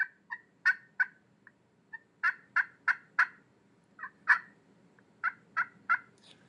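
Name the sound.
turkey call clucking imitating a hen turkey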